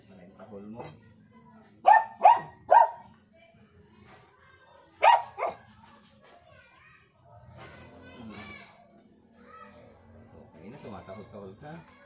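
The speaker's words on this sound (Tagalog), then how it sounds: "Tumatahol-tahol ka." A dog barks several times in short, sharp bursts, with a pair of barks followed by a lone bark later, amid children's voices and chatter.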